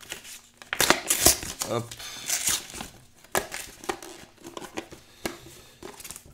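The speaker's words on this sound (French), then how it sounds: "Allez, on va déchirer ça." Cardboard and plastic packaging of a GoPro Max camera being torn open by hand, with bursts of crinkling and ripping, sharp tears and rustles, under someone speaking French.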